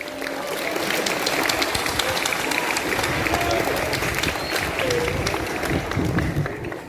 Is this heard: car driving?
no